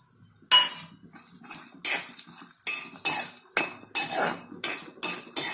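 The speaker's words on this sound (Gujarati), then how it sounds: "હવે આપણે એમાં પિસ્તા નાખી દઈશું." Pistachios tipped into a pan of dry fruits on low heat and stirred for khajoor dry fruit pak, giving about a dozen crisp clinks and scrapes of spoon and nuts at an even pace, close up and with no talk.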